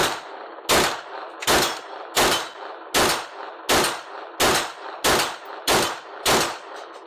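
Gunshots from a custom TTI Combat pistol build, nine sharp loud reports fired at a steady rhythm about every 0.7 seconds, each with a short ringing tail, close and alone without talk.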